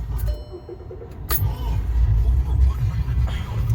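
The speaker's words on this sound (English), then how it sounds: "put the key in the ignition, turn said key, all the lights pop up," A Volkswagen Passat is started with the ignition key. Keys jangle and click near the start, then the engine catches and settles into a steady low rumble close by.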